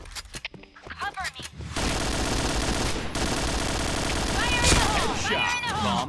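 Sustained automatic fire from an AUG rifle in the Point Blank shooter game, dense rapid bursts dominating after a brief quieter start, with players' voices faintly mixed in.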